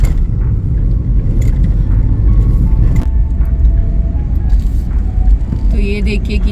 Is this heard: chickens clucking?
no